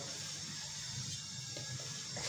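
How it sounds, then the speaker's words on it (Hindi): Water pours steadily into a cooking pot for beef pulao, a continuous rushing splash over low background hum. "पानी शामिल करेंगे।"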